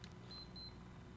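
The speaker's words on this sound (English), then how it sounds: "my alarm's going off on my watch" A wristwatch alarm gives two short, high electronic beeps in quick succession, faint over a low steady background hum.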